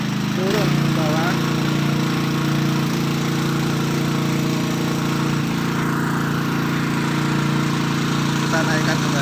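Small engine-powered well drilling rig running steadily while boring a simple borehole well, a loud continuous motor drone like a lawn mower throughout, with a voice talking over it.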